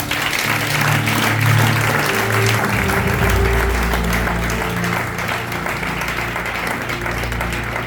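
A church congregation at a Sunday fasting service applauds the Lord, with sustained, loud, dense clapping and crowd noise throughout, over a low organ or keyboard drone.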